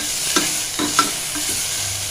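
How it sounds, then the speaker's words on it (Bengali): A spatula stirs chicken with salt and a pinch of turmeric in a hot pan. Several distinct scraping strokes, roughly four, sound over a continuous soft sizzle, close and fairly loud, with no talking. "দিয়ে একটু ভালো করে নাড়াচাড়া করে নেব।"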